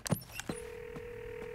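A telephone is dialed in a French children's cartoon: a couple of quick clicks and beeps, then a steady ringing tone with faint repeated pulses.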